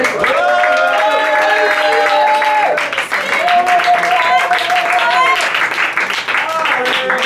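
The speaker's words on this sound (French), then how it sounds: "On applaudit Lucille." A bar audience at an improvisational theatre show applauds a volunteer joining the stage. Lively clapping runs throughout beneath loud, sustained cheering and voices calling out.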